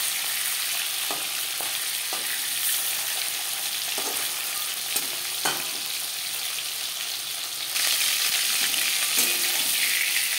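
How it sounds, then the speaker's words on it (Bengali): Chela sea fish frying crisp in hot oil in a pan gives a steady, close sizzle throughout, with a few soft clicks and scrapes from stirring or turning the pieces. "মাছ একটা সাইড ভাজা হয়ে গেলে অপর সাইডটা উল্টে দেবো।"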